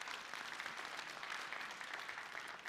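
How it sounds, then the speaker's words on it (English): A hall audience at a Brooklyn borough address gives a steady round of applause, dense clapping at moderate distance throughout. "The people of Brooklyn, yes, a round of applause."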